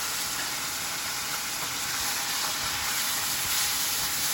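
Liver sizzling in a hot karahi, a steady, close hiss of frying oil that holds without break and stays fairly even, with no voices over it.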